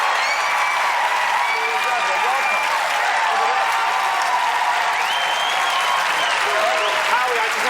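Sustained applause from a studio audience at a Deal or No Deal game show taping, a dense steady wash of clapping with some cheering that holds evenly throughout, loud and close.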